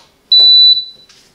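A Silvercrest SIKP 2200 B2 induction hob gives a single loud, clean electronic beep as it is plugged in, holding a steady tone for about half a second before fading, with faint handling noise around it.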